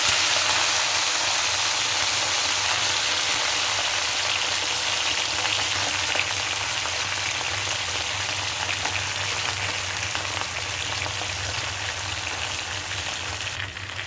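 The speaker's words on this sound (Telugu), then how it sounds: "వంకాయలు ఇలా కట్ చేసుకున్నాను, తెల్ల వంకాయలు ఇట్లా వేసుకుంటాను" Cut white brinjal pieces sizzle in hot oil in a pan for a masala curry, a steady, dense crackling hiss that continues unbroken, with no talking.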